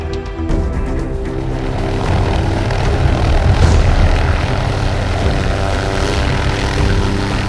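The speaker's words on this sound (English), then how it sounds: "The helicopter's herding the elephant." A helicopter flies low to herd an elephant during an aerial darting operation. Its engine and rotor make a loud, steady, close drone that swells slightly midway and continues unbroken, with no talk.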